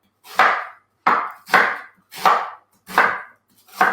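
Onion chopped with a knife on a wooden board, five loud, evenly spaced thuds with crisp cutting crunch, close up and alone.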